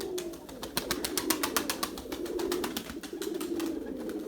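Domestic pigeons coo repeatedly, a male chasing a female, with a throaty rolling call over a steady run of wingbeat-like pulses, close and moderately loud.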